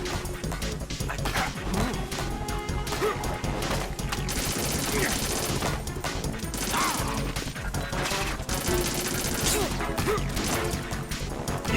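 Automatic AK rifle fire in the Metal Gear Solid 2 video game, dense bursts of shots crackling continuously over a busy game soundtrack with clashing effects throughout.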